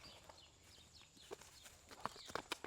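A horse's hooves thud and clop at a walk as it crosses and climbs back out of a ditch, irregular steps rising from faint to a few sharper knocks near the end, with birds chirping faintly outdoors.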